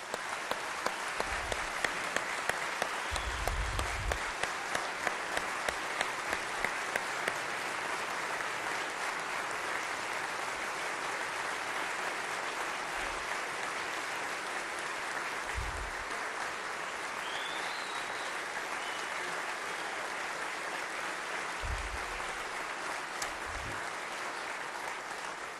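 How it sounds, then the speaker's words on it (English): An audience at a governor's State of the State address applauds at length, a dense sustained roar of clapping with some early sharp claps, steady and full throughout with no speech. "Give her another round of applause."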